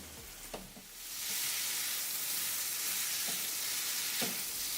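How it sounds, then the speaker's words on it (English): Paneer tikka sizzles loudly in a pan over high flame, a steady broadband frying hiss that swells after the first second and holds, with a few soft clinks and stirs of the pan underneath. "Our paneer tikka is sizzling and smoking hot."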